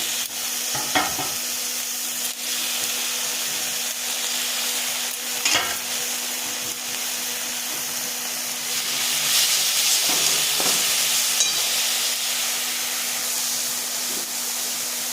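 Tomato paste and spices fry in a pan for a rohu fish kaliya curry, giving a steady sizzling hiss throughout with a few brief scrapes of stirring.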